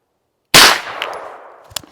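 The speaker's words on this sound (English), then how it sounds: "Same load, standard pressure 124 grain XTP out of the carbine." A single sharp shot from a 9mm carbine firing a 124 grain XTP standard-pressure load cracks loudly after a half second of silence, then decays with a ringing tail and faint clinks.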